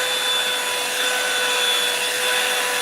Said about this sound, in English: while I got the blow dryer on